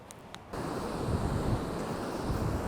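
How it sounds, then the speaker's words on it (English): Strong wind blows at the coast by St Michael's Mount at high tide, a faint hush suddenly swelling into a loud, steady rumble of gusts buffeting the microphone over surf. "It's windy as hell and it's high tide."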